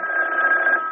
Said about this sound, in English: you'd better answer the phone